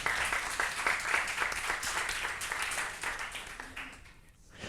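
Conference audience at the GoLab 2019 Go programming talk breaking into applause, a dense burst of many hands clapping that carries on for several seconds and gradually thins out.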